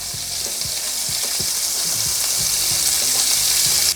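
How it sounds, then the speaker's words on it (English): Chopped onions and celery sizzling loudly in a hot pan for stew, a dense continuous hiss with scattered crackles and pops, close and alone with no talking. "I'm not doing too much to these onions, just going in the pan"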